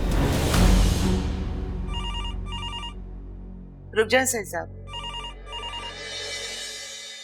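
A household telephone rings in two short double bursts, fairly loud and near, with people speaking just before and between the rings.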